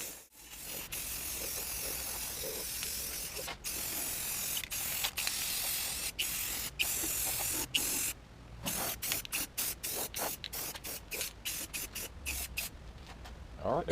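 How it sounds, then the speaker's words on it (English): A can of black spray paint hisses over a custom car dashboard, first in a long continuous spray, then in many short rapid bursts separated by brief pauses, close to the microphone. "take some regular black spray paint and spray paint all this white"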